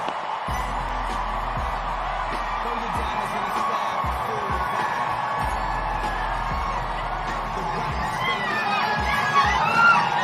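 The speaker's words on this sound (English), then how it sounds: "Check out the crowd at the U.S. Open when Serena Williams walks on the court." A large tennis crowd at the U.S. Open cheers, whoops and shouts as Serena Williams walks onto the court, a steady loud roar of many voices with a low rhythmic thumping underneath throughout.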